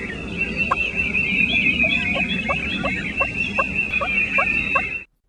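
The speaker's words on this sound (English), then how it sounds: "Before hens have flown down from the roost, they can be heard making a tree yelp call." Wild turkey hens give a tree yelp call from the roost, a series of about ten soft, evenly spaced yelps over a steady background hum, ending abruptly.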